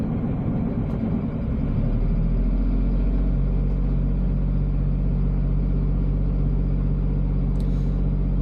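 An engine wired to a newly finished console and gauge hums at idle, then rises slightly in pitch as gas is applied, holding a steady, loud, close rumble for the rest of the clip.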